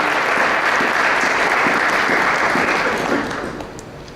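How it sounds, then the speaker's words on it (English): A room full of people at a chamber of commerce legislative breakfast clap steadily and loudly, the applause holding strong before tapering off near the end. "Please give our delegation another round of applause"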